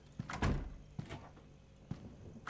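Door closing inside the horror game Stories To Tell: Greyville Stay: a single soft thud followed by a few quieter knocks and clicks, faint and close with no talk.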